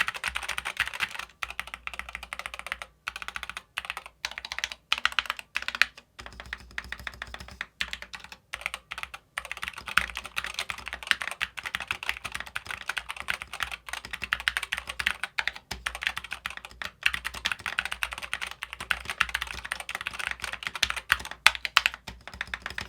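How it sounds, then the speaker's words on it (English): Steady, rapid typing on a modded Apex Pro TKL mechanical keyboard with lubed, band-aid-modded stabilizers, a dense stream of crisp close-up keystrokes with brief pauses and no talk. "This keyboard sounds absolutely amazing"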